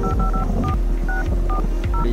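Touch-tone telephone dialing in the game The Red Strings Club, a quick run of about seven crisp beeps at an uneven pace, loud and close, with no voices.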